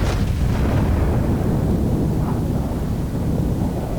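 Heavy battleship gunfire from a Massachusetts in World of Warships, with main guns and secondary batteries booming as a dense, continuous low rumble of blasts throughout, loud and close, with no talk.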